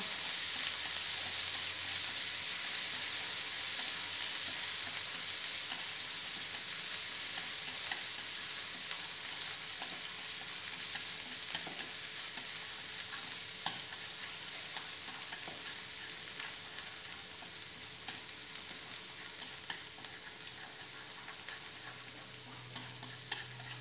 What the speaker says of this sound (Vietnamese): chúng ta sẽ bắt đầu xào cái này lên cho đến khi mà nó thơm